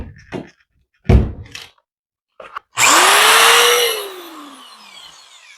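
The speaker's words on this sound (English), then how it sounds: "See, it can handle my drill with no problem." A corded power drill powered through a DEWENWILS four-outlet extension cord reel in a workshop, preceded by a few short knocks and handling thumps, then a loud close motor whir that winds up, holds about a second, and spins down.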